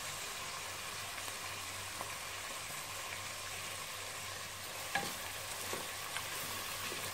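Ginger garlic sautéing in a pan for mutton biryani makes a faint, steady sizzle with occasional soft stirring scrapes, no voices.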